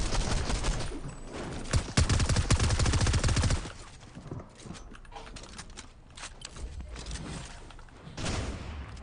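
Gunfire in the video game Fortnite Season 4, a dense, loud burst of rapid shots that gives way to quieter scattered cracks and impacts before another short burst near the end.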